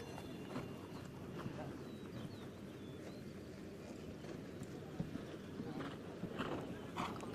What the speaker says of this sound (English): This horse owned by Patrick Sugdalak.